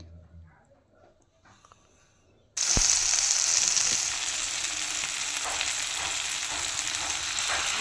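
Chopped tomatoes hit a hot frying pan with a sudden loud sizzle after a quiet start, then keep crackling and hissing steadily as they are stirred, with a few scraping knocks.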